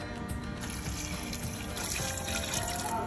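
Tap water runs steadily into a kitchen sink while braised pork belly is being prepared, a continuous close splashing flow with no voices.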